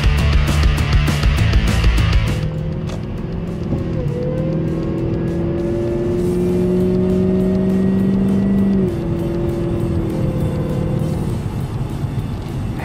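A 2008 Cadillac STS-V engine revs loud and close, a rough burst giving way to a sustained rising and falling tone that holds for several seconds before dropping back, with no talking.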